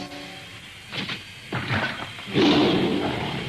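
A rough, growling roar swells near the end after a few scattered thuds and rustles, fairly close and moderately loud.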